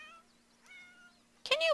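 Cat meowing in The Sims 4, a single short, bright meow near the end after a quiet stretch with faint game tones.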